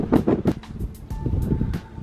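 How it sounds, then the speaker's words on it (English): Gusty wind buffeting a microphone in repeated bursts at a castle high above a valley, loud and close, with rumbling low-end noise rising and falling. "Excuse the wind if it's a bit much."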